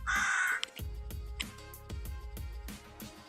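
Birds calling outdoors: a loud, near caw at the start, then repeated shorter calls of varying pitch, over a low rumbling background.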